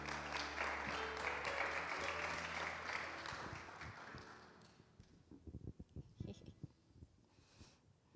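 Congregation applauding during a Mother's Day church service, a dense burst of clapping that fades midway into scattered, sparse claps and quieter room sound.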